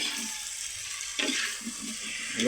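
Softened beef skin being stirred in a hot pan, a steady hiss with a louder scraping stir about halfway through and another at the end, close by and without speech.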